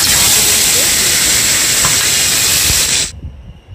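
Loud, dense hissing sizzle of gutum fish frying in hot oil in a wok over high flame, steady throughout before cutting off abruptly near the end.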